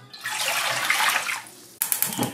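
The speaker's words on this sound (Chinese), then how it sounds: "锅里边加入清水" Clear water pours into a cooking pot in a close, rushing splash that stops abruptly, followed by a few sharper splashes and knocks, while making seaweed egg drop soup.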